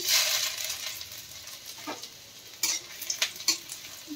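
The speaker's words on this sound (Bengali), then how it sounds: "প্রথমে দিয়ে দেওয়া হচ্ছে রসুন কুচি, তারপর দিয়ে দেওয়া হলো আদা কুচি" Chopped garlic and ginger fry in hot oil with a bright, steady sizzle, broken by a few sharp clicks and scrapes of a utensil stirring the pan, close up and without speech.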